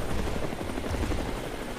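In the multiplayer VR game War Dust, a helicopter flies with a continuous low, chopping rotor rumble, moderately loud and steady throughout, with no talk over it.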